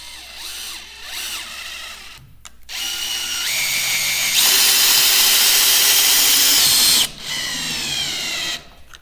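A power drill drives screws into a wooden stud board while a small cabin loft wall is framed, loud close bursts of whirring with short pauses between them and no talking.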